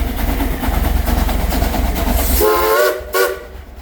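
A train at the Silver Dollar City amusement park rumbles loudly nearby with a steady rolling roar, then a horn sounds twice toward the end as the noise fades.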